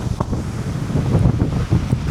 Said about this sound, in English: You probably hear the wind.